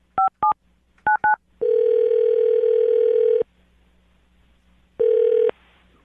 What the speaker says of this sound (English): I'm going to dial his phone number now and see why he's not calling you back